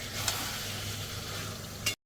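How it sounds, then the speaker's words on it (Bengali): Meat being sautéed in a pan for a Bengali curry gives a steady, fairly quiet sizzle with faint stirring scrapes, ending abruptly. "এবার মাংসটাকে ভালো করে আগে কষানো হবে।"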